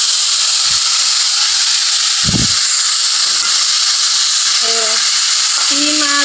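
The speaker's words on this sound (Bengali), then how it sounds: "সিম আর আলু ভাজি করতেছি।" Flat beans and potatoes frying together in a pan, giving a loud, steady hiss and sizzle throughout, with a couple of low thumps and a faint voice briefly audible near the end.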